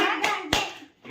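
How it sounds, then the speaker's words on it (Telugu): Family members clap briefly at a home Mother's Day celebration, two or three close, sharp hand claps with a voice and other voices around them. "క్లాప్స్ కొట్టే"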